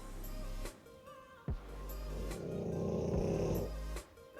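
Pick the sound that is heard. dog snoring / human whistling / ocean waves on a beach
dog snoring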